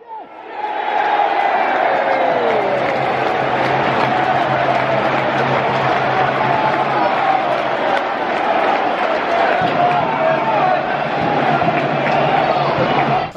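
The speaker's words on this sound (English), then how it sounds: "Consolation cheer at best." Sheffield Wednesday football crowd giving a brief consolation cheer in the stadium, a broad, sustained roar of many voices with a rising chant tone, loud and continuous throughout.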